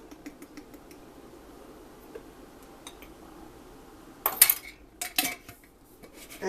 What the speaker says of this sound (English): I dropped my lid.